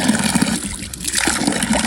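Water rushes continuously through a stream in the village of Swala, a loud, close, broad splashing flow with a brief softer dip midway.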